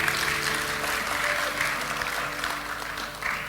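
A church congregation claps together during a worship service, with a steady, full round of applause and a low musical hum underneath.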